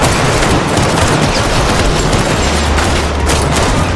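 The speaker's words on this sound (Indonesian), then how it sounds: "Mendengar akan mendapatkan poin, mereka semangat berlatih menembak." Rapid gunfire from shooting practice, a dense continuous burst of shots filling the whole stretch, loud and close with no pauses or talk.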